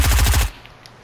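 A brief burst of rapid automatic gunfire in Fortnite, loud and close, about half a second of quick repeated shots that then cut off to near silence.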